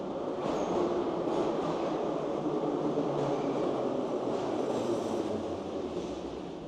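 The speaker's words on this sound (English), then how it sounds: "So let's jump on the metro and go to the industrial part of Kharkiv." A Soviet-era Kharkiv metro train rumbles along on the industrial line, a loud, steady roar from inside the carriage with faint rhythmic wheel clatter throughout.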